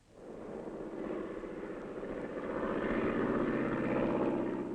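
A light aircraft flies over cattle country along the Tropic of Capricorn, its propeller engine making a continuous droning roar that swells gradually as it draws nearer, with no other sounds present.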